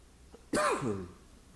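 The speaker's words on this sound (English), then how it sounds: "I've got a dry cough that's just attacking me" A single short, dry cough rings out close by against a quiet background, followed by a brief fading rasp.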